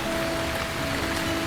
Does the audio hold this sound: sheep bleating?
no